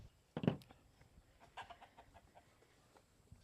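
Chickens cluck on a small farm on processing day, one loud close squawk followed by a run of softer, quick clucks, with no talk.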